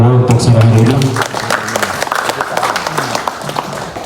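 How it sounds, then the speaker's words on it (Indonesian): At a Vespa scooter gathering in Riau, a speaking voice fades out and audience applause follows, a moderate scattered clapping that continues at a fairly even level to the end. "Saudara boleh kasih tepuk tangan dulu untuk saudara ini."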